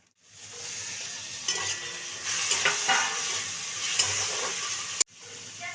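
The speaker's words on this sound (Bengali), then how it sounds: "পেঁয়াজটা একটু ভাজা ভাজা হোক কাঁচা লঙ্কা দিয়ে দিয়েছি" Onion and green chilli fry in a pan, a steady bright sizzle with stirring scrapes that swell midway, then a sharp break near the end before the frying resumes. No one speaks.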